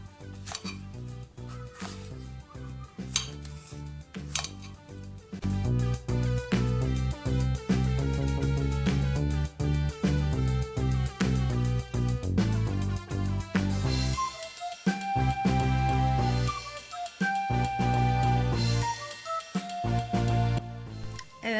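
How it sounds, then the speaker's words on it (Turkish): A fork cuts and mashes tahini halva in a deep bowl, giving repeated clinks and scrapes of metal on the dish in an irregular rhythm over steady background music. "Şimdi helvamızı şöyle biraz kesiyoruz ki ezmemiz kolay olsun"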